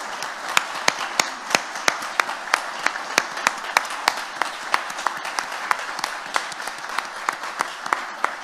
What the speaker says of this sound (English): So a big round of applause to Federica Braccioli, Marcus Eating, and Ri